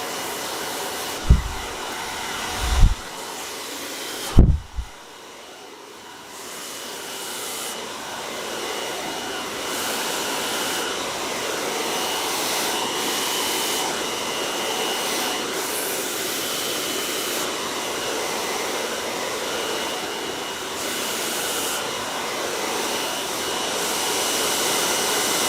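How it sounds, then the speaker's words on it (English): A hair dryer blows steadily at close range on hair being styled with a brush, with a constant whooshing roar, preceded by a few brief knocks and handling thumps in the opening seconds. "turn that dryer off"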